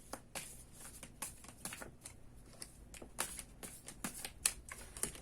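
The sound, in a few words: shuffling tarot cards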